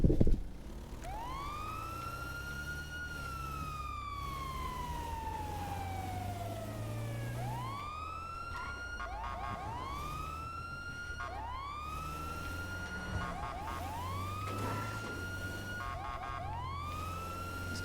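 Police car siren in a video game, wailing in long rising and falling sweeps that switch to quicker repeated yelps, loud and steady throughout with no talking.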